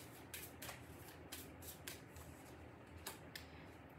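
Rune cards are shuffled by hand in a quiet room, a run of soft papery riffles and snaps repeating over several seconds with no talking.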